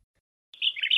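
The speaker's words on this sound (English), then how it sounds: "A bulbul," A bulbul gives a short, bright call that starts after half a second of silence, a quick warbling chirp that is clear and fairly close.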